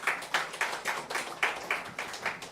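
Church congregation clapping in welcome as a pastor comes forward at a thanksgiving service, a faint, fairly steady run of hand claps with a few louder bursts.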